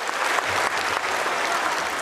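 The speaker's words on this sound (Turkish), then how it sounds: "O anlar izleyenlerden alkış aldı." Audience applause at a wrestling exhibition where a young boy faced national wrestler Taha Akgül on the mat: dense, steady clapping from a crowd, continuous for two seconds with no talking.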